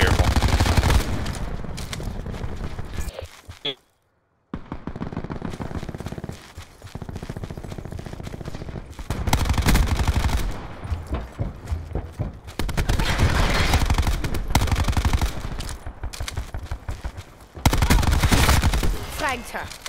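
Rapid bursts of video game gunfire rattle through most of the stretch, loud and dense, with a short silent gap early on. Players talk over the shooting.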